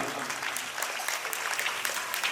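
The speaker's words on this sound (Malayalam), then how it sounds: "എല്ലാവരും കൂടി വലിയ കയ്യടി കൊടുക്കണം." A school annual day audience claps together, a dense, steady wash of applause filling the hall at moderate loudness throughout.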